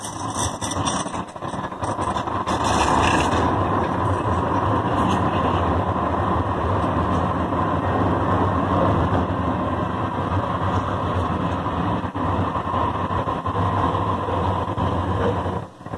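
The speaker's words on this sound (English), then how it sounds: "There's a train coming." A train rumbles through a street crossing in Portland's Chinatown, a loud, sustained roar that holds steady for the whole stretch before easing off at the end.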